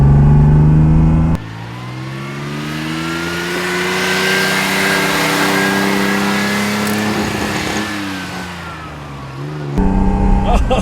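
A Dino 240 GT engine pulls hard under acceleration, its rising harmonic whine climbing and sustained from close by, with a sharp change in pitch near the start and end as gears shift.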